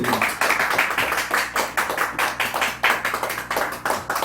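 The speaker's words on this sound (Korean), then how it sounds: "박수 주세요." Clapping from a church congregation following a special offering, a steady patter of hands lasting several seconds with no talk over it.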